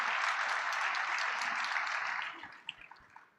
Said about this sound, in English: I also wanted a round of applause.